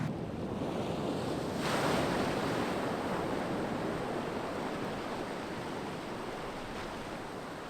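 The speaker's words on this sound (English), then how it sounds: "The waves are crashing in good." Ocean waves crash at Champagne Pools on Moreton Island, a loud surging wash that swells early and then settles into a steady roar, with wind buffeting the microphone.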